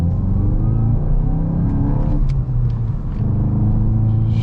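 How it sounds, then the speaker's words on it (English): A 2023 VW Golf GTI manual's four-cylinder engine revs and pulls hard accelerating uphill on salty, sandy pavement, a loud continuous rumbling drone with rising and falling pitch, heard from inside the car. "we'll give it one more acceleration coming up the hill here"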